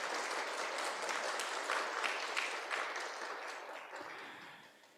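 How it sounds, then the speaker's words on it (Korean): Congratulatory applause from a church congregation at a Sunday service marking the church's 49th anniversary: a crowd claps together, fairly soft and distant, swelling briefly and then gradually tapering off toward the end. "다 모아서 한번 축하의 박수를 보내겠습니다."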